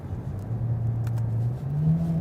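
A 2016 Kia Optima engine driving in sport and manual mode with traction control off, a steady close droning hum that holds a pitch and then steps up higher near the end, with no talk.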